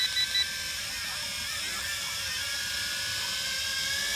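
An X6 Tarantula quadcopter hovers nearby, its rotors giving a steady high-pitched whine with slight pitch wavers as it holds position, fairly faint and alone.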